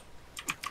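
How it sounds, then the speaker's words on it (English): A few quick keystrokes on a computer keyboard, close and fairly faint, tapping in a short uneven burst over quiet background. "Mark, your keyboard's really ruining this video."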